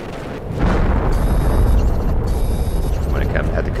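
Meteor impacts in the video game The Planet Crafter hit as a loud, deep rumbling roar that swells in suddenly and holds steady, with a few crackling bursts toward the end.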